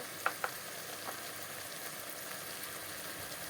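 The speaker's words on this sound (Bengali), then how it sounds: "মশলাগুলোকে ঢেলে দেওয়া হলো মশলাগুলোকে ভালো করে কষিয়ে নেব" Spices frying in a pan for chicken and potato curry, a faint continuous sizzle with a couple of brief utensil taps near the start, quiet and steady, with no voices.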